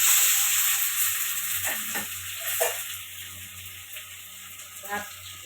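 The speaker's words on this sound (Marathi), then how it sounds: "थोडेसे जिरे टाकून घेते आता कढीपत्ता टाकते आणि कांदा टाकून घेते" Cumin seeds, curry leaves and onion sizzle and crackle in hot oil for a Maharashtrian potato curry, a steady frying hiss with a few louder bursts and stirring clinks, no talking.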